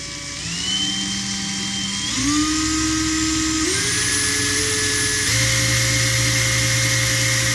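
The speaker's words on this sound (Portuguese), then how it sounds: "E conforme vai se apertando, ó, ela vai aumentando a velocidade." A Makita cordless screwdriver's motor whines up in speed in distinct steps as its variable trigger is squeezed harder. The rising tones are loud and steady and sound alone, with no one talking.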